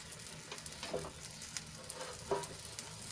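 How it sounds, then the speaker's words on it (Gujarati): Aloo paratha frying in a little oil on a pan, a quiet continuous sizzle broken by small crackles and pops, heard close and alone with no talk. "હવે નીચેથી ચડી ગયો છે આપણે બીજી બાજુ પલટાવી લઈશું અને થોડુંક ટીપા આપણે તેલ એડ કરીશું"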